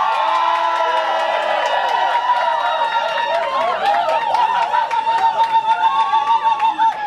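A concert crowd at a show at the Shrine cheers loudly, with whoops, shouts and whistles building into a sustained roar that swells toward the end.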